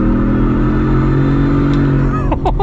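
A 2023 Shelby F-150 Super Snake Sport two-door pickup in two-wheel drive accelerates hard, its engine a loud close-up roar that climbs steadily in pitch and ends with a sharp burst near the end.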